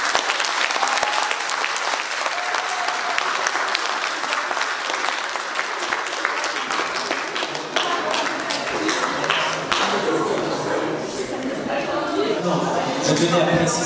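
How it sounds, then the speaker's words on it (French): A school audience gives a loud, sustained round of applause for guest speakers at an event in Hirson, steady clapping throughout with crowd chatter and a voice rising near the end. "Et un tonnerre d'applaudissements pour eux,"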